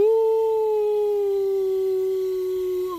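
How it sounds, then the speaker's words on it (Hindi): A single dog howls in one long, steady, drawn-out tone that fades slightly at the end, with no other sounds around it. "रात को दूर से कुत्तों की भौंकने की आवाज।"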